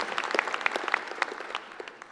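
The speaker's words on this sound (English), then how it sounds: "You can clap." Audience at a Medical College of Georgia hooding ceremony breaks into a short burst of scattered, fairly close hand clapping that thins out over about two seconds.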